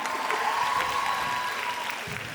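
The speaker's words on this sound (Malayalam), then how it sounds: "ഒരു സ്പെഷ്യൽ കൈയടി പ്ലീസ്" An audience breaks into sustained applause, a dense, even wash of clapping that holds steady and then tapers slightly at the end, with no clear speech over it.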